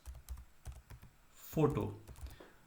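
Someone types a web search on a computer keyboard: a quick run of light, close key clicks in small bursts, with a voice speaking briefly over part of it.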